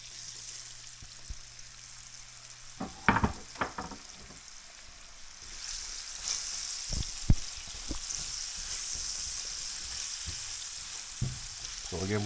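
Chopped onion goes into browned pork fat in a frying pan over low heat, setting off a steady close sizzle punctuated by several sharp clatters and scrapes of stirring.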